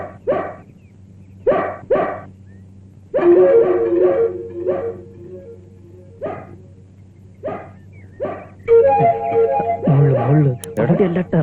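A dog barks repeatedly in short bursts and breaks into drawn-out howls, close by, while people talk over and between the barks.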